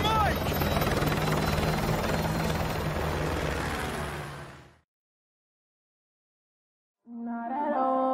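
A helicopter in Call of Duty MW2 Remastered gameplay thuds loudly and close with heavy rotor wash, cuts out abruptly to silence, then returns at a distance.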